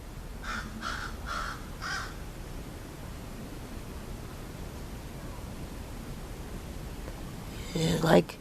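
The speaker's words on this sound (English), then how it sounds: "There's like 3 big black crows." Big black crows calling outdoors in a garden in the morning, four quick caws in a row early on over a constant hiss of wind or background noise, then a louder brief sound near the end.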